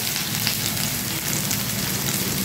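Capsicum and green chilli sizzle in a hot pan, a dense, steady crackling hiss that stays loud and even throughout with no voices.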